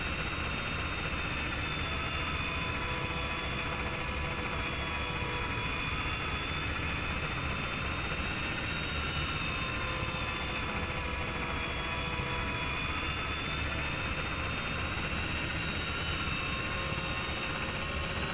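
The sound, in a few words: helicopter flying in a military video game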